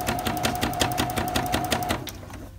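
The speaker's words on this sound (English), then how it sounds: "And then I just kind of slowly stitch right along there." A sewing machine stitches along a zipper pouch in a fast, even run of mechanical clacks for about two seconds, then stops. It is close and clear, with no talking.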